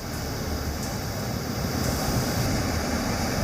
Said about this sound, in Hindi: भारी बारिश के बाद भागीरथी नदी का पानी तेज बहाव कैसे यहां के